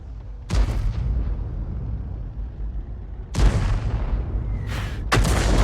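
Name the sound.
tank gun shot hitting turret in a video game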